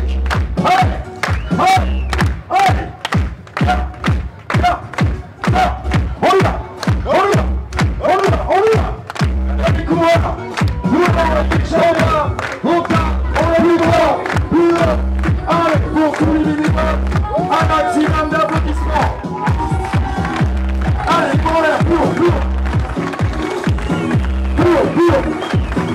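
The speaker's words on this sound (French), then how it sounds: "Merci pour les applaudissements au niveau des bénévoles" Crowd at the start of the Diagonale des Fous 2021 race clapping in a loud, sustained rhythmic beat for the volunteers, with thumping and a voice over a loudspeaker throughout.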